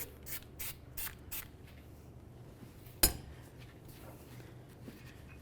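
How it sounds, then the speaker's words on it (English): Copper anti-seize is sprayed onto a mating surface on a 2012-2016 Subaru Impreza during steering knuckle work, with several short quiet hissing bursts and one sharp metallic clink. "Let's use some copper anti-seize on the mating surface here."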